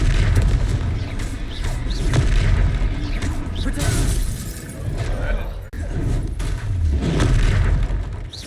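Repeated explosive spell blasts from combat with a troll in Hogsmeade in the video game Hogwarts Legacy, loud booming bursts under continuous battle noise, with voices calling out throughout.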